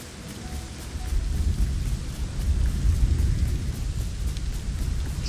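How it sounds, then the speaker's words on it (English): A thunderstorm in the video game Lego Fortnite, with a steady hiss of rain over a deep, rolling low rumble of thunder that swells and lingers throughout, fairly loud and continuous with no talking. "This better not be a thunderstorm."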